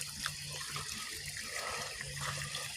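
Water trickles and gurgles steadily along a drainage ditch, a continuous close flowing sound with no voices.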